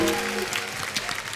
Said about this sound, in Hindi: नीतू जी के लिए जोरदार तालियां।